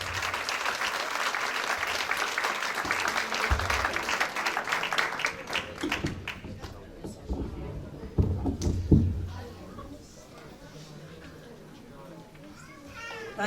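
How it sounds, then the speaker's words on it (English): Outdoor crowd applause at a Diwali lights switch-on event in Derby, a steady wash of clapping mixed with children's voices and crowd chatter that thins out and fades after several seconds, leaving scattered claps and murmurs. "Big round of applause."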